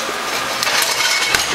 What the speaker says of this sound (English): I'm going to put in some foil. Wrap it up.